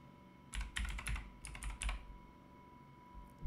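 Quick bursts of clicking on a computer keyboard while a font name is typed into a search field in Canva, two short clustered runs of keystrokes, close and crisp, with no talking.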